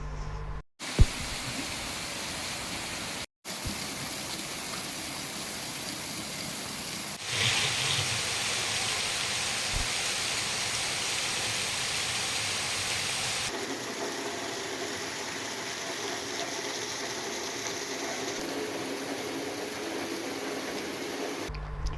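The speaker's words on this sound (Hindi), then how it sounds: "वडोदरा जिला के सावली में सुबह से ही धुआंधार बारिश दर्ज की गई।" Heavy downpour in Savli, Vadodara district, Gujarat: a dense, steady hiss of rain and running water fills the whole stretch, briefly cut by short gaps near the start and shifting in intensity partway through.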